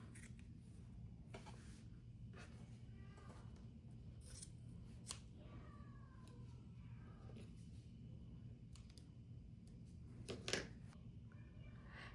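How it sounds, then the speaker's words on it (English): Scissors trim the extra zipper tabs off a fabric pencil case, giving several quiet, close crisp snips spread irregularly over a soft hum, with no talking. "we're going to trim off the extra zipper tabs"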